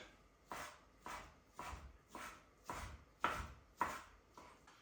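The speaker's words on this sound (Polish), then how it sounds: "wędlinkę również kroję w drobną kosteczkę" A knife dices cold cuts into small cubes on a board for egg salad, about nine evenly spaced, crisp chops in a steady rhythm, close and fairly quiet.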